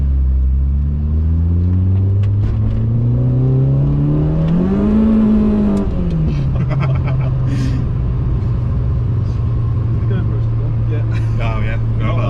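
Citroen AX VTS engine revs high and holds against the rev limiter, a loud, steady buzzing drone that climbs, bounces briefly, then settles into a sustained note, with people talking over it inside the car.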